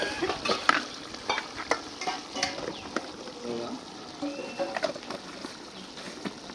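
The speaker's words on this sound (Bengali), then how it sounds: "এখন মশলাটা ভুনা করে নিই ভালো করে।" Spice paste fried and stirred in a pan in a village kitchen: repeated scraping stirs over a soft sizzle, with people talking nearby.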